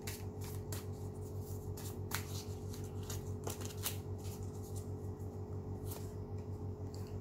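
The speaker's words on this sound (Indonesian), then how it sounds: "Satu kartu lagi dari The Spirit Animal Tarot." Tarot cards from a spirit animal deck are shuffled and handled, soft scattered flicks and riffles close by over a steady low hum in a quiet room.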